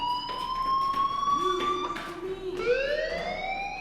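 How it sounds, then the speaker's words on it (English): In the video game Life is Strange, an electronic fire alarm sounds with steady, piercing tones that slide and rise in pitch. It rings continuously for a few seconds at close range, with no talking. "do you hear that fire alarm?"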